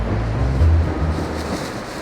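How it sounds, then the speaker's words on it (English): Strong gusts of wind roar and buffet the microphone outdoors beside a narrowboat under refit, a steady low rumbling rush with no speech. "it's been so windy here today"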